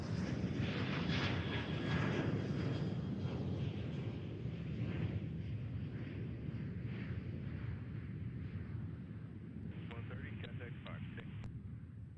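Southwest airliner jet taking off from Cincinnati airport, a broad steady engine roar sustained throughout, with people talking over it.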